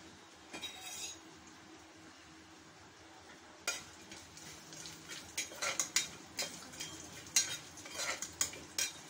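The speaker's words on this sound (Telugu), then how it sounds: "బాగా వేగనివ్వాలి." Marathi moggu spices sizzling in hot oil for Hyderabadi bagara rice, with a steady low frying hiss and, in the second half, irregular scraping knocks of a spoon stirring against the pan, close and fairly quiet.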